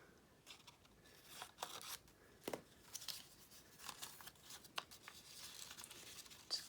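Scissors cut through paper tickets with quiet, repeated snipping and crisp rustling, a steady irregular series of small cuts heard close up with no talk.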